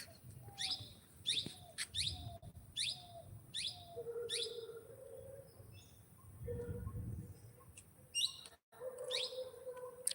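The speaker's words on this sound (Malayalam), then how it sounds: "ഇവിടുന്ന് ഇങ്ങോട്ട് കിളി പറന്നു" A bird chirps outdoors in a quick, repeated series of bright sharp notes, fairly close, while cooing calls and other faint birds sound lower in the background.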